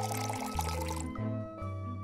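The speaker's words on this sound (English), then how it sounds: "Pour in 9 ounces of milk" Milk being poured into a chocolate cake batter of cocoa powder, soft butter and vegetable oil, a steady liquid pour running close and clear over a bed of sustained background music.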